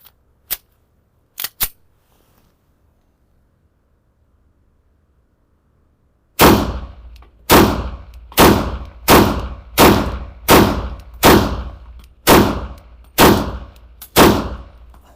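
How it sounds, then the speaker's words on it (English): Three sharp, isolated pistol reports from a Beretta 98 fitted with tactical grips, followed after a pause by a rapid string of about ten loud, evenly spaced shots, each with a short echoing tail, close to the listener and no voices. "let's fire a few shots with each of these two guns"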